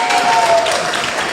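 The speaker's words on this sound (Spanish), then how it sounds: "dale un fuerte aplauso" A church congregation breaks into loud applause, a brief burst of dense clapping with crowd noise mixed in.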